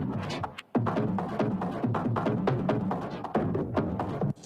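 Layered frame drum warp loops from the Hammers library, signals 1, 6 and 12 together: dense, rolling drum hits with a low throbbing body, played in a continuous busy pattern with a short break near the start.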